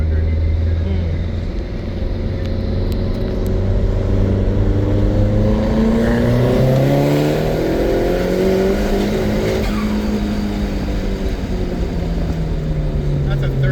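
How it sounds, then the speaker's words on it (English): Nissan S15 Silvia with a 396 hp SR20 turbo engine pulls hard through third gear, its loud engine note climbing steadily in pitch close by, with people talking over it. "That's a third gear pull."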